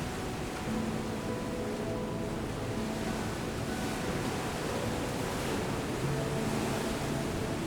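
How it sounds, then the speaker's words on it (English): Steady, broadband rush of a waterfall in Slovenia, a continuous roar of falling water with no breaks, fairly close and filling the space. "When you stand near the waterfall, the sound of the water echoes in the quiet space."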